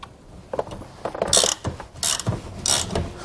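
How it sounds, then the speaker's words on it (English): Wrench working bolts on a Torflex axle lift kit for a 2018 Forest River Rockwood Mini Lite trailer: a series of quick metallic ratcheting clicks and clanks in short bursts, fairly close and alone. "If your bolt starts to spin on the other side, just use your other wrench to hold it."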